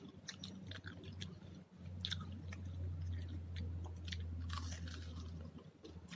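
Someone chewing a home-fried snack with a crunchy outside, steady close bites and crunches repeating over a low hum, no talk.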